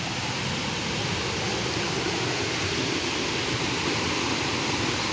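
Steady, dense rush of a waterfall near Rourkela, a constant broadband roar without pauses, heard alone with no voices.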